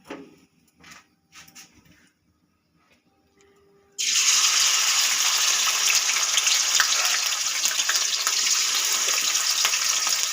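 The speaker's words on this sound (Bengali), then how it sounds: "তো তেল গরম হয়ে গেছে, আমি প্রথমে চিকেনটা একটু ভেজে নেব।" Chicken pieces dropped into hot oil for a spiced mince-and-chickpea curry burst into a loud, steady sizzle after a few quiet, faint clatters, the frying hiss staying strong and continuous to the end.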